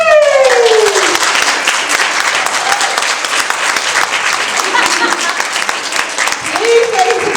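An awards-event audience breaks into loud, sustained applause for a presenter and judge taking the stage, dense clapping continuing throughout with faint voices mixed in.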